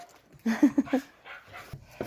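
A village dog whimpers and pants in short close bursts, a few soft yelps followed by quieter breathing and small movements.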